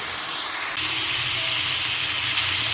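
Garlic-ginger paste and tomato fry in a hot pan, a loud steady sizzling hiss held close up throughout without any talking.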